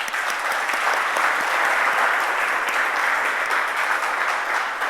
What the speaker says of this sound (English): Let's give all of those speakers and panelists a huge round of applause in advance.